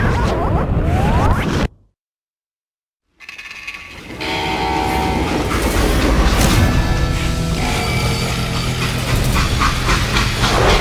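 A freight train in the video game Call of Juarez: Gunslinger: metallic clanking and grinding mechanisms with a ratcheting rhythm, broken by a brief dead silence, then a sustained rumbling rail clatter with squealing metal tones.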